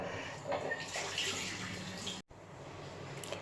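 Water runs and splashes steadily as a jelly-ball face scrub is rinsed off the face, close and continuous apart from a brief cut near the middle.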